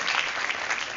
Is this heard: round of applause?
yes